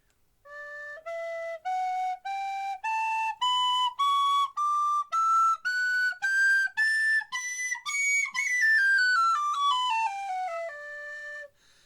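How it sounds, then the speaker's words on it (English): A tin whistle plays a rising scale of clear, separate notes climbing up through two octaves, then slides quickly back down in a run, bright and close with no talking. "You've got these notes on the tin whistle."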